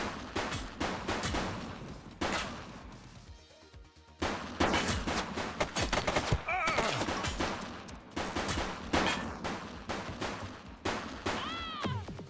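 Repeated gunfire bursts in the police video game The Precinct, rapid loud shots in clusters with a brief lull midway, mixed with game action sounds.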